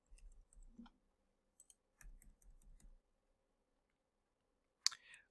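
A phone number is typed on a computer keyboard in short bursts of quick key clicks separated by pauses, ending with a single sharper keystroke, close and alone.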